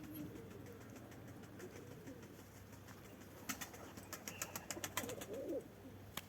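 Pigeons flying after release, a flock climbing high overhead, with soft flapping wingbeats and clattering bursts growing busier toward the end over a faint steady background hum.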